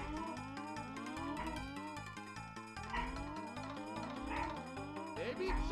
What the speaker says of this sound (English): Doesn't help that my dog's barking.